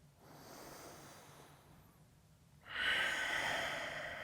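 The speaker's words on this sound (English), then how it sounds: "One more breath." A deep, slow exhale during a muscle activation exercise, following a quieter breath: a soft airy rush that swells abruptly and holds, close and alone with no talk.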